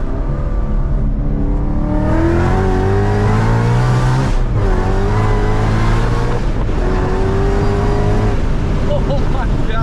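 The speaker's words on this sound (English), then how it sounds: "Second into third, it was a little sketchy just from my ass feeling" A 900-horsepower Mustang on a stock MT82 transmission accelerates hard, its loud engine climbing in pitch through a gear, dipping at the shift, then pulling again over steady wind and road noise.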